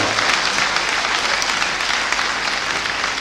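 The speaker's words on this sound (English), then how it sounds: "please join me in applauding my paper presenter and my discussant for a job well done" Workshop audience applauding a paper presenter and discussant, a steady, dense wash of clapping from many hands that fills the room at an even level throughout.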